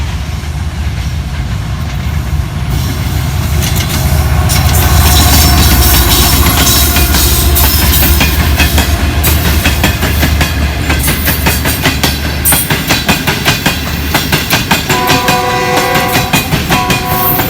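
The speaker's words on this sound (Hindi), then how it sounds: "ओ निकलो भाई, रेल आ रहा है, निकलो यार।" A train rumbles past close and loud, with rhythmic clickety-clack of wheels on rail joints and engine noise throughout, at Malir railway station.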